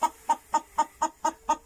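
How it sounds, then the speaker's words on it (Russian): A chicken clucks in a steady series of seven short, evenly spaced calls, close and clear with no voices over them. "О, слышите? Курица."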